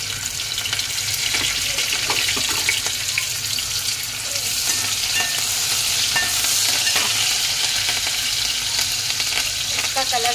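Garlic, onion and curry leaves sizzle steadily in a hot pan, a loud continuous frying hiss with occasional stirring scrapes and no talking.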